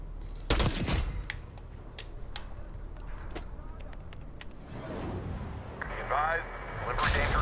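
Gunfire in the video game Call of Duty: Black Ops 6, with a loud burst at the start, then scattered sharp shots over a rumbling battle ambience, and voices speaking near the end.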